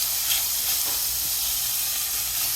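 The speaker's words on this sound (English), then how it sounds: "Fry in a medium-sized saucepan on around medium heat." Chopped bacon and diced onion fry over medium heat in a medium saucepan as the base for poutine gravy, giving a steady, close, even hiss and sizzle that runs unbroken throughout with no voices.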